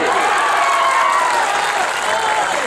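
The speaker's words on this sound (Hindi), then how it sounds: "एक बार जोरदार तालियां बजा दीजिए" Crowd at an outdoor Urdu poetry mushaira applauding, a steady dense wash of clapping and cheering that stays loud and even throughout, with a sung or spoken voice carrying faintly over it.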